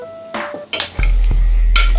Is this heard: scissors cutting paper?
no